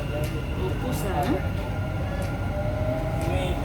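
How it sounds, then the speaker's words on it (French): A Dubai metro train runs along the track with a steady low rumble and a faint high whine, as heard from inside the carriage. Light clatter and quiet talk sit in the background. "Ça c'est le métro."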